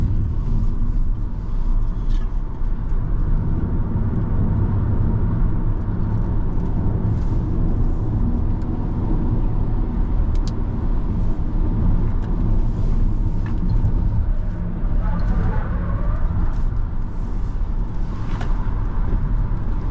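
A BYD Dolphin electric car climbs the winding mountain road up Genting, a steady low rumble of tyres and road noise inside the cabin with no engine note, continuous and even throughout.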